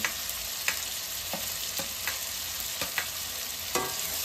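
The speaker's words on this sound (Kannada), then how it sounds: "ಟೊಮೆಟೊ ಫ್ರೈ ಆಗ್ತಾಯಿದೆ. ಇದ್ರ ಜೊತೆ ನಾನು ಕರಿಬೇವು ಹಾಕ್ತಾಯಿದ್ದೀನಿ" Tomatoes and raw curry leaves frying in oil in a pan for a pumpkin palya, a bright constant sizzle with occasional sharp stirring clicks spaced through the clip, close and unaccompanied by speech.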